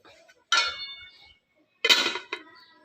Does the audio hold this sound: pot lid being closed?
yes